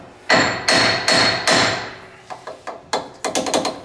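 A hammer strikes a ball joint on a 2013 Dodge Ram 3500 to loosen it: four loud ringing metallic blows, then a quicker run of lighter taps, close and clear.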